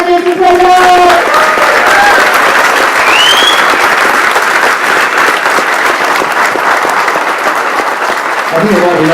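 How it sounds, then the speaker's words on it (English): A crowd at a British Touring Car Championship driver Q&A at Rockingham applauds two racing drivers with loud, sustained clapping and some cheering, as a voice speaks briefly near the start. "Please join me in putting your hands together"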